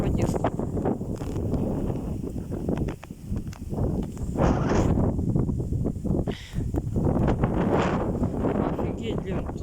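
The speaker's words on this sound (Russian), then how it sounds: "Вот это порывчики ветра, блин, сегодня." Storm gusts of up to 23 metres per second sweep an open field, giving a loud, rough roar with microphone buffeting that surges and briefly drops in waves, with no pause between gusts.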